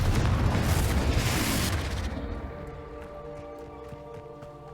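A Confringo blasting spell from Hogwarts Legacy detonates as a loud, broad explosive boom that rumbles for about two seconds, then trails off into a quieter, fading decay with faint musical tones underneath.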